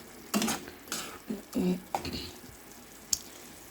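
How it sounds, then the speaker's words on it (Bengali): Spoon stirring sidol, a traditional fermented fish dish, cooking in a pan: several scraping, clattering strokes with soft sizzling between them, close by. "নাড়া দিয়ে দেখি কেমন হচ্ছে"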